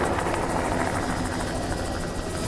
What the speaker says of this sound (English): I've hitched a ride in this helicopter.